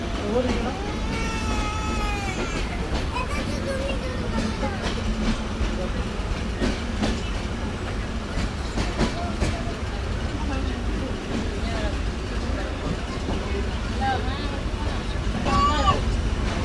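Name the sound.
train running past small stations without stopping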